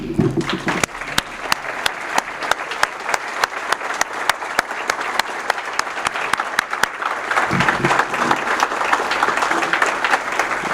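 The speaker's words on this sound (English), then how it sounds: "I'd like the scholarship recipients, the students here today, to stand for a round of applause." A luncheon audience gives a round of applause for scholarship recipients, steady crowd clapping with one sharp, regular clap cutting through nearby, swelling slightly louder toward the end.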